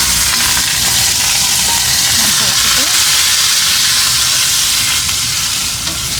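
Mustard seeds, urad dal and curry leaves crackling loudly in hot oil while tempering sambar for a homemade masala dosa, a dense, steady, close sizzle and hiss throughout with a voice speaking faintly underneath.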